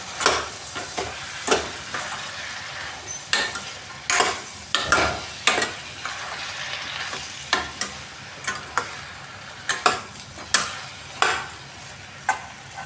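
Chopped pumpkin fries in hot oil with tempering, a steady sizzle broken by frequent sharp scrapes and clinks as a spoon stirs the pan, close and fairly loud with no talking.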